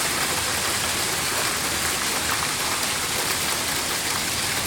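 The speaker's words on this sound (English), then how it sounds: "I've never seen this much hail ever before." Dense hail pelting a van and a small car during a storm, a steady, loud, continuous hiss of countless impacts with no pauses from start to finish.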